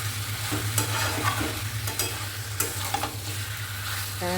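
Chicken sizzles in a pan while it is sautéed and stirred until its released water cooks off. A steady frying hiss runs throughout, broken by intermittent scraping stirs, and no one speaks.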